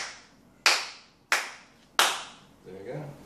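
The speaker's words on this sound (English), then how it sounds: "if you can give us a clap so we can sync all this sound up" Three sharp, loud hand claps ring out about two-thirds of a second apart, each decaying quickly in a room during a countdown to sync sound for an interview at a housing residence, followed by a brief murmur of voices.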